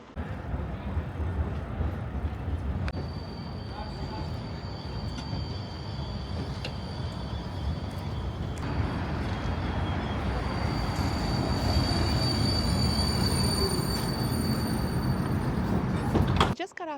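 Vienna tram number 1 pulls up at Schwedenplatz with long, high metallic wheel squeals over a steady rumble and crowd noise. A door sounds near the end and voices talk nearby.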